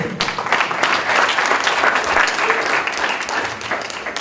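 A crowd applauds at a university graduation party, with steady, dense clapping that holds at an even level throughout and no speech over it.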